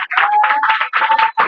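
Congregation clapping during a Sunday church service, a run of loud, close, rhythmic hand claps in quick groups with brief gaps between them, heard alone without talk.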